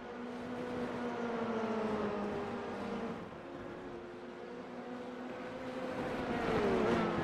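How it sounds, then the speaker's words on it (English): Race cars in a simulator game at Mugello, engines droning steadily down the straight at high revs, pitch slowly shifting, one car close behind another, no talk. "So down the straight, getting good slipstream off the back of Reem Gross"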